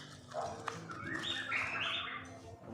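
A murai (magpie-robin) gives short chirps and rising whistled notes, quiet and close, over a faint background.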